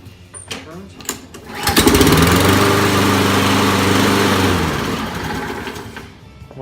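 A Toro walk-behind lawn mower with a faulty carburetor is pull-started: a few cord pulls, then the small engine catches and runs loudly for a few seconds before dying away.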